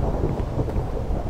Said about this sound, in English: and the lightning has started.